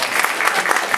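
An audience at a film screening talk for an independent Korean film breaks into steady applause, dense close clapping filling the room without pause.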